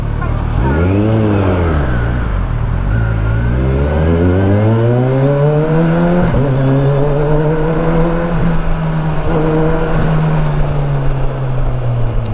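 A Kawasaki Versys 1000 SE motorcycle engine revs up and down loudly and close, its pitch rising and falling in sweeps before settling into a steady, sustained drone.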